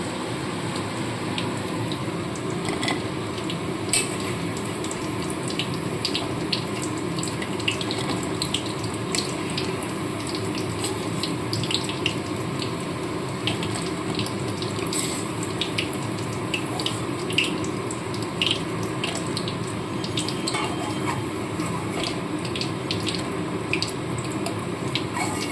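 Soya chunk pakoras frying in hot oil: a continuous dense sizzle and crackle with scattered pops, close and steady throughout, with no talking.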